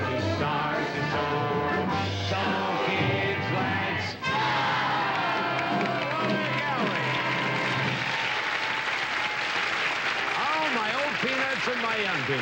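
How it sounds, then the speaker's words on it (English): An audience at a children's television show, The New Howdy Doody Show, cheers and applauds loudly throughout, with whoops rising over a bright musical theme. "Let's give a rousing cheer"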